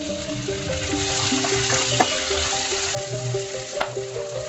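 Chopped onions frying in a pan with bay leaf, ginger and garlic for dhaba-style paneer, a dense continuous sizzle with steady hiss and occasional clinks of a utensil.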